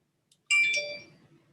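A phone rings once with a bright, tonal electronic chime that starts abruptly, stays close and fairly loud, then fades out, with no talking.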